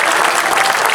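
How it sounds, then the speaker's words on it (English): Audience at a bear show at the Florida State Fair breaking into a steady, dense round of applause, clapping close and continuous. "How about a big round of applause"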